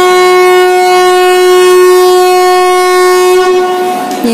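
A train horn blares loud and sustained at Panipat railway station in India as a train passes through, a steady, harmonically rich blast lasting several seconds before it begins to fade.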